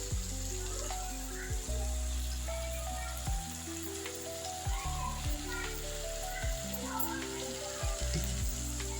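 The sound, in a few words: ground masala paste frying in pan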